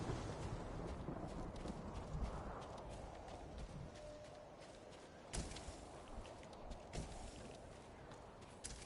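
Horse hooves clip-clopping in Ghost of Tsushima, a steady walking rhythm of soft hoof falls with a few sharper clops, faint and alone against quiet ambience.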